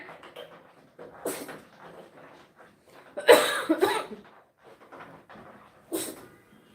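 Several short bursts of coughing come in bouts across a quiet background, one person close by.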